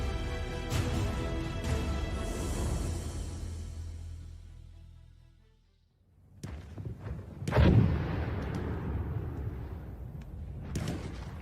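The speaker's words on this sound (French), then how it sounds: "Des bruits éclatent à mes oreilles, comme de lointaines explosions" Distant artillery fire from World War I trench warfare, a heavy continuous rumble broken by several sharper booming blasts, loud and without voices.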